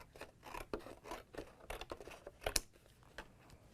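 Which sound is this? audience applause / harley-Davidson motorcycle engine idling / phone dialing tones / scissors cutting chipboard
scissors cutting chipboard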